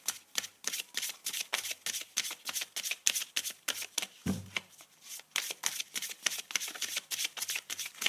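Angel oracle cards are shuffled by hand in a quick, steady series of crisp riffling bursts, close and fairly quiet, with a brief soft thud partway through.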